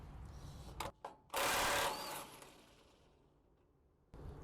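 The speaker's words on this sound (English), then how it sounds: "I come in, take the center bolt out." A power tool backs the center bolt out of the shear hub on a New Holland 313 discbine: a few short whirring bursts, then one longer loud spin that fades, a pause, and a final burst, all close and without talk.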